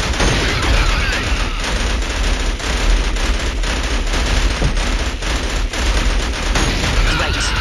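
Sustained gunfire in the video game Killzone HD, a dense continuous barrage of rapid shots and booms, loud and close throughout with no letup.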